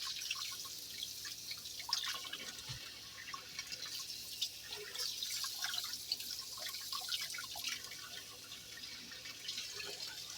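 Water running and dripping from a kitchen faucet while beets are washed in a sink for canning, a soft steady trickle with light splashes and clinks, fairly quiet and without talk.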